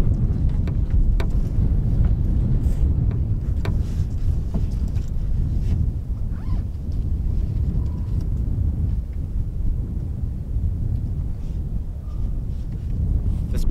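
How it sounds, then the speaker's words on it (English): Cold winter wind blowing steadily outdoors over snowy ground near hidden tents, a constant low buffeting roar against the microphone with gusty rumbles throughout and no talking. "The wind is cold, though. I have to say the wind is cold."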